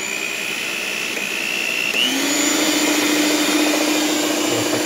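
An electric stand mixer, one of a Philco, Britânia or Mondial model, runs continuously with beaters in dough, a steady loud motor whine that shifts pitch upward partway through, with no talking.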